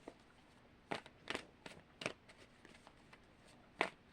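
Crisp, papery tarot card shuffles come in irregular bursts, a few sharp riffles spaced across a quiet background, close and moderately loud.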